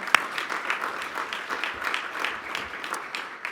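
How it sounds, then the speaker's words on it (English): An audience at a Canadian Club business luncheon applauds a sponsor as students are brought in, a steady, moderately loud patter of many hands with one sharp clap at the start. "Round of applause for our sponsor, bringing the kids in."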